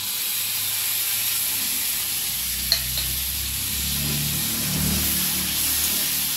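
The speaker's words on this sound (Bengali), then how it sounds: "এবারে আলু আর টমেটো একসঙ্গে খানিকক্ষণ নাড়াচাড়া করে নিতে হবে।" Potatoes and chopped tomato fry together in a pan while being stirred, giving a steady soft sizzle with scraping stir strokes and a brief clink near the middle.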